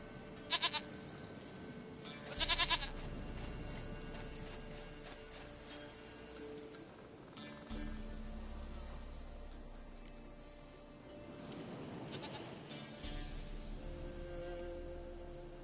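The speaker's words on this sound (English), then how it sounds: "Goat of mine, dearest," A goat in Witcher 3 bleats a few times, short wavering cries spaced through soft game music and gentle ambient rain, moderately near.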